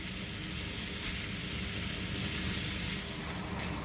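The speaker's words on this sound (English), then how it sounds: "And now we'll just add the sausage. Now you just want to break this up as you cook it." Italian sausage browning in a pan, breaking into bite-sized chunks for a low-carb tomato and pesto soup, gives a steady, even sizzle and crackle at moderate level, with no voices.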